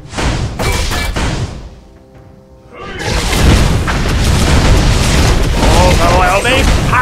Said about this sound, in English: Your team has destroyed a summon stone.